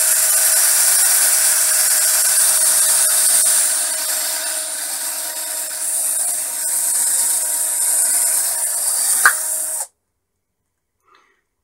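A power drill bores holes for a charge controller enclosure, a loud, steady whirring grind that runs continuously for several seconds, then a brief knock before the motor stops and the sound cuts to near silence.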